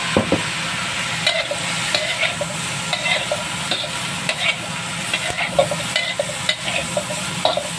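Dried salted fish, tuyo, frying in a pan of spicy chili mixture, a continuous close sizzle and hiss broken by frequent scraping stirs of a utensil against the pan, no talking.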